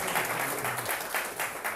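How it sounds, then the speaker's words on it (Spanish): Lecture-hall audience applauding a student in a university class, a dense steady wash of many hands clapping, moderately loud and continuous for the short stretch with no voices over it. "Un aplauso para Navarrete."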